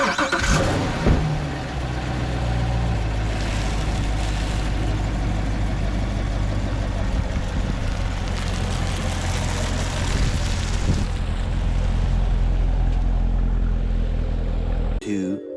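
A Corvette C7 engine starts and idles, then revs as the car pulls away, a loud steady engine drone that holds throughout and fades near the end.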